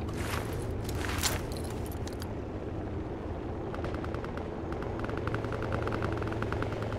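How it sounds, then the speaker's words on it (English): A helicopter approaches to land near a bridge in the video game Project Reality, a steady rotor rumble heard at a distance under bursts of gunfire and crackling impacts. "Helicopter, far side of bridge."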